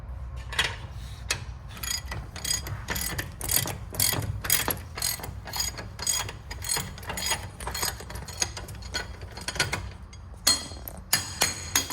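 Ratchet socket wrench with a 15/16 inch (24 mm) socket loosening a bolt on a John Deere Z970R zero-turn mower during a ZGLIDE suspension install, rapid repeated clicking strokes close by, steady and continuous with brief pauses.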